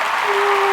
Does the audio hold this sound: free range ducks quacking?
no